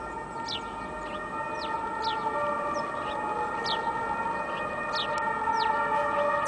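A police siren wails steadily at a distance, a long sustained tone, while birds chirp in short, faint calls over it.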